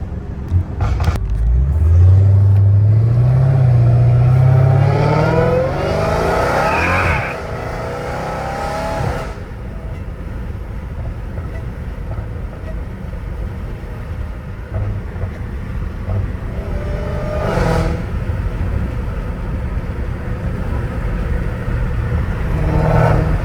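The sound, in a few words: Dodge Challenger Hellcat Redeye engine revving loudly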